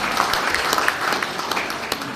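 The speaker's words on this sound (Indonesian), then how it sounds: "Tepuk tangan buat beliau" Audience applause at a national-insight socialization event at IKIP PGRI Bojonegoro, greeting the second speaker: a steady, dense wash of clapping throughout with no voices on top.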